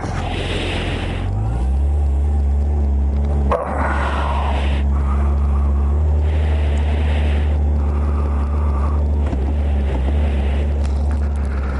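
A motorcycle ridden on a road in Texas and shifted with a paddle shifter gives a loud, steady engine and wind roar close up, with brief changes in the drone where gears shift.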